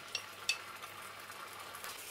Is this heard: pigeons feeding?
no